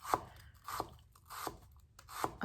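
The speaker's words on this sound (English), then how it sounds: "I'm going to start to chop up some onions. I'm using a white onion here." A knife chops through a white onion on a cutting board, about five distinct, evenly spaced thuds with crisp crunching attacks, close up and moderately quiet, with nothing else heard.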